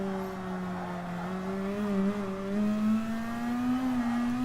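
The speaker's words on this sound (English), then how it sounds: "So hard on the throttle out of that corner." A race car in Gran Turismo Sport powers hard out of a corner, its engine droning steadily and rising slowly in pitch over several seconds, close and loud with no voices.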